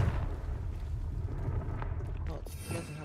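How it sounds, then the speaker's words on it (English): A Confringo fire spell blasts in Hogwarts Legacy as a sustained, loud, rumbling roar with low booms and crackle. A voice talks over it. "Confringo. Confringo. Confringo."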